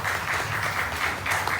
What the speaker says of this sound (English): So let's give a lovely round of applause for Nika.